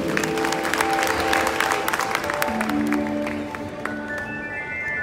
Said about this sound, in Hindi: एक बार आशीर्वाद देने के लिए जोर जान तालियां बजा दीजिए।